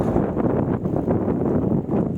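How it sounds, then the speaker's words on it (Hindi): Strong wind blows at Jal Mahal on a stormy morning, a continuous, loud, buffeting roar with gusty surges and rustling, heard alone with no talking. "तेज हवाएं चल रही हैं"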